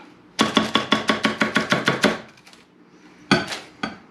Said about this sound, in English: I'm going to scrape it all out of that bowl.